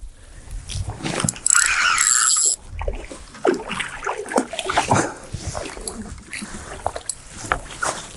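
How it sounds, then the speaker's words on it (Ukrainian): A hooked fish fights a fishing line on a river. Close splashing and mechanical ratcheting clicks, like a reel, come in busy bursts, with one loud surge early on and no speech. "Да, на річці, друзі, рибка сопротивляється гарно."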